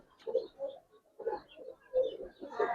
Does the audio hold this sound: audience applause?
no